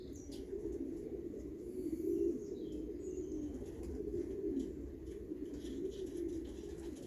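Pigeons coo softly and repeatedly in low, rolling murmurs, several birds overlapping at moderate distance with faint background noise.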